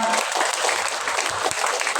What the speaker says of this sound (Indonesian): Tepuk tangan untuk siswa kita.